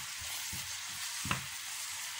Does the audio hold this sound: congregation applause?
no